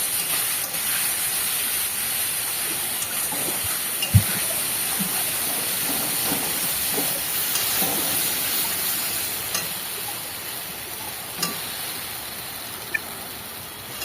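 Spice paste sizzling and frying in a pan for a jackfruit curry with eggs, a steady close hiss of hot oil with occasional light clinks of stirring and no talking.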